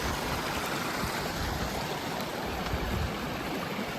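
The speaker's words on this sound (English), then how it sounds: "Awesome flow of the water." A mountain creek rushes in a continuous, dense broadband hiss of flowing water, steady and fairly loud throughout with no voices or other sounds.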